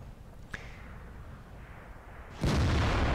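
Jagdpanther II tank destroyer cannon firing in World of Tanks, a faint distant pop early on, then a loud heavy boom that holds to the end, with no talk over it.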